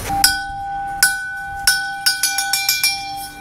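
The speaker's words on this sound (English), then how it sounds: "The musical tones of Manny Lead Foreman on bells" Hand bells rung by a lead foreman at a house construction site in the Philippines to signal the end of the work day: bright ringing strikes, spaced at first then quickening into a rapid series, each leaving a sustained tone.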